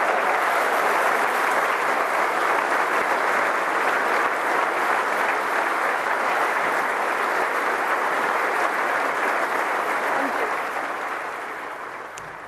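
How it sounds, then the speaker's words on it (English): A large hall crowd at the Queen Elizabeth Conference Centre in Westminster applauds the Conservative Party leadership result in a long, dense, sustained roar of clapping that stays loud before tapering off at the end. "as the applause continues at the Queen Elizabeth Conference Centre in Westminster"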